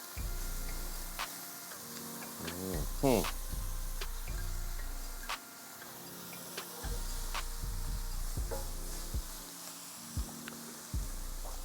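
Big, fat shrimp cooking in a salted sauce in a pan give a steady low sizzle and bubbling with occasional clinks and stirring, while a voice talks over it throughout.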